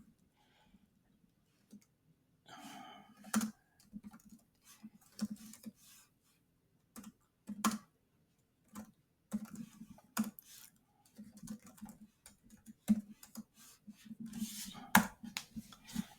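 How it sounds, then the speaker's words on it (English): Quiet, irregular typing on a computer keyboard as a command is entered in a terminal, soft individual key clicks in short bursts with pauses, alone without talk. "And type the command."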